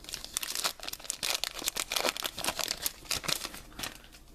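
A Pokemon Fates Collide booster pack is torn open up close, producing a dense run of crinkling foil and ripping bursts that continue throughout, with no voices.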